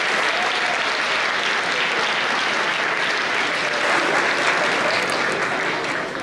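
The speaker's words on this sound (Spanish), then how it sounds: "Un fuerte aplauso para ella." Steady, dense applause from a gala audience after an award is handed out at a campus festival, loud and continuous throughout with no pauses.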